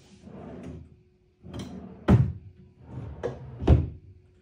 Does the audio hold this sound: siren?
no